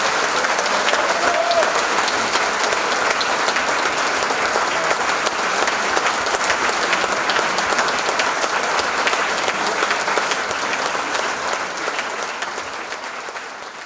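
Huge, sustained applause from a club gathering at a civic reception in Wetzikon, dense crowd clapping filling the room for about fourteen seconds before starting to ease off at the end.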